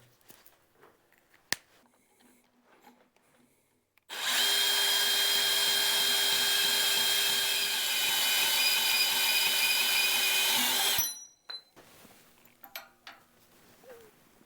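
A power tool cuts steel gussets for a grapple in one loud, steady burst lasting several seconds, a high metallic whine with sharp start and stop, surrounded by quieter shop clatter.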